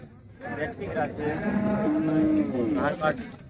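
A cow moos loudly and close at the Manapparai cattle market, one long drawn-out low call with a rising tail, with crowd noise faintly behind.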